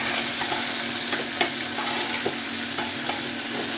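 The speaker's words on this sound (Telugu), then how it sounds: "ఇప్పుడైతే రెడ్ మిర్చి అండి, దీన్ని కూడా బాగా ఫ్రై చేసుకోవాలి." Red chillies fry in an oiled pan with a steady crackling sizzle, broken by several soft scraping stirs of a spoon, close and fairly loud with no voices.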